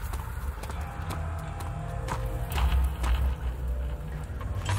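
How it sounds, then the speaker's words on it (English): Rapid thudding footsteps in the horror video game Amnesia: The Dark Descent, an irregular clip-clop patter under a low droning ambience that grows heavier and nearer toward the end. "I swear I keep hearing something running around, but I never find it."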